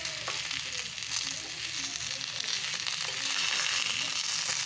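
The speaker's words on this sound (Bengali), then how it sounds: "সবজিগুলো আমি ভেজে নিয়েছি, এবার মশলা অ্যাড করে দেবো" Vegetables sizzling in a pan as spices go in, a steady, close frying hiss that runs unbroken throughout with no voices.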